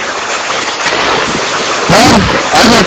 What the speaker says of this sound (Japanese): 雨風強いよ。